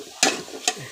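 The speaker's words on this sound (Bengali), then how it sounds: "এই তো শাকগুলো দিয়ে দিলাম, তেলে বাগার দিয়ে দিলাম।" Boiled stem greens (data shak) dropped into hot tempering oil for a Bengali fry, giving two sharp sizzling bursts about half a second apart that fade into a low crackle, with no talking.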